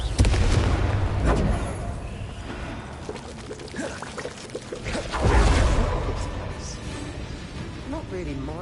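A Confringo fire-blasting spell in Hogwarts Legacy bursts with a loud, rumbling explosive boom, swelling again midway through a roaring, crackling blast with a lingering fiery tail.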